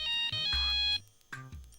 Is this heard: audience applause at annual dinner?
no